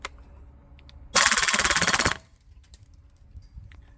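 A VFC MP7A1 Gen2 gas blowback airsoft gun fires a single full-auto burst of about a second, a rapid, sharp, evenly spaced rattle of shots, close and loud amid otherwise quiet surroundings.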